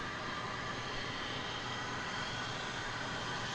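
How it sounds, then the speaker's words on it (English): A Frontier Airlines passenger jet at DFW Airport produces a steady, distant engine roar that holds at an even, moderate level throughout. "There's a Frontier flight."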